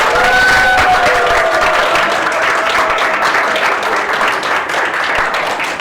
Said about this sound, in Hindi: इनके लिए बिल्कुल वैसी ताली हो जाए